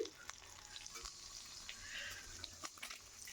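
Soft, steady sizzling and crackling of eggs frying in oil, faint and continuous with a few small pops.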